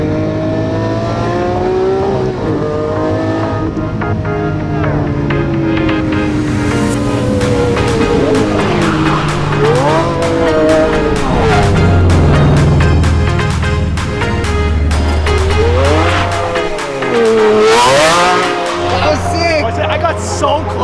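A car's engine revs and surges through repeated throttle taps while the car is spun, pitch rising and falling with swooping whines, loud and close, with talk over parts of it.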